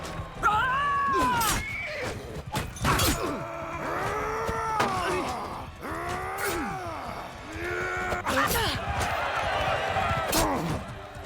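Horses neigh and whinny repeatedly in Mount and Blade Bannerlord battle gameplay, with clanging impacts and crashes between the calls and someone talking over parts of it.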